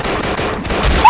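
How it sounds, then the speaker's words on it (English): Rapid sustained automatic gunfire in a video game, a loud dense burst filling the whole moment with no talk over it. "Why did you shoot that for no reason?"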